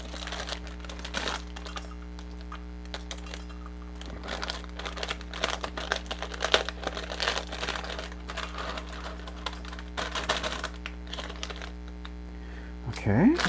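A plastic bag of coleslaw mix is cut open, giving faint crinkling and scattered small clicks over a constant low electrical hum.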